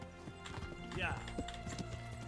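Horse hooves clip-clop in a steady rhythm during gameplay, mid-distance and continuous under game music and a voice, with a brief whinny-like rise in the middle.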